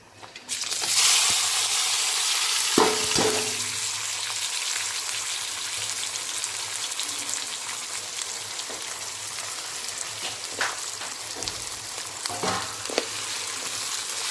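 Chopped onion and green chili hit hot sugar in a pan and fry with a steady, dense sizzle, broken by a few stirring scrapes; no voices.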